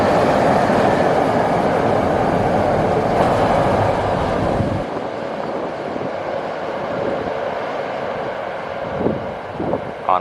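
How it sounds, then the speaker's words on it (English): A BART train rumbles past close by on an elevated track in Albany, California, with a loud, steady roar that eases after a few seconds into a lighter rolling rattle and wind noise. "You can hear there's a train coming behind me right now"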